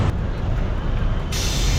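A city bus's air brakes release with a loud hiss of air over a low engine rumble, close by, as it stops at Chromepet Hospital bus stop in Chennai.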